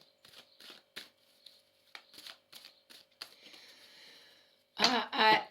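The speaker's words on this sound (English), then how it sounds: "while I'm shuffling the cards" A deck of oracle cards being shuffled by hand in a quiet room, soft papery riffles and taps in short bursts, ending with two louder close shuffles.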